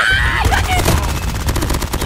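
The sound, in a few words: gunfire in a video game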